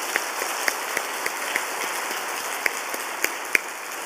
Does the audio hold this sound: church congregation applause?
yes